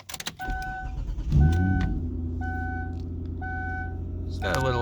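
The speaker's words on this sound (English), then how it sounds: "It's got a little exhaust leak." An old offroad beater car with a small exhaust leak idles nearby with a steady low rumble, after a brief clatter at the start and a burst of higher-pitched noise near the end; a few electronic beeps chime at intervals over the engine.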